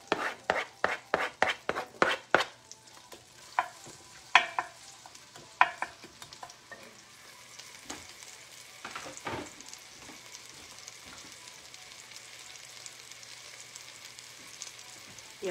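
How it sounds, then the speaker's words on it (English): Grated onion sautéing in a pot for potato soup, a string of sharp close spoon taps and scrapes at first, then a soft, quiet sizzle with occasional stirs. "Add your onions, your grated onion. And you're just going to saute that for"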